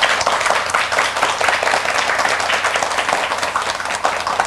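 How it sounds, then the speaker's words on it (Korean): A lecture audience gives a loud, sustained round of applause in thanks, a thick, even wash of clapping that lasts throughout with no speech. "오늘 유익한 강의를 해주신 우리 현태덕 교수님께 다시 한번 감사의 박수 부탁드립니다"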